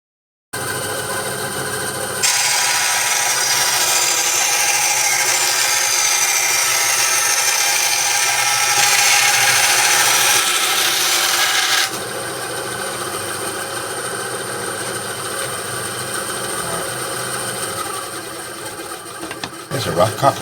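A power tool cuts engine air-intake louvers on an Ocean Pirate 55 boat. A continuous high whine runs loud and steady for about ten seconds, then eases to a lower drone before stopping.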